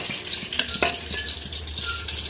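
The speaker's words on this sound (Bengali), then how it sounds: "এখানে সর্ষে তেল গরম বসিয়ে দিলাম টুকরো করা পেঁয়াজটি আগে দিয়ে দিচ্ছি" Chopped onion sizzles in hot mustard oil, a steady close frying hiss with a few sharp crackles and stirring clinks, no voices.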